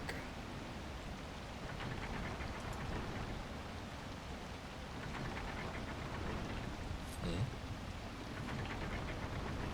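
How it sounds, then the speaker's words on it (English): Constant rain falls in the video game Wild Hearts as a soft, even hiss of drops. It stays fairly faint throughout, with a few slightly louder spatters. "Another victim of this endless rain."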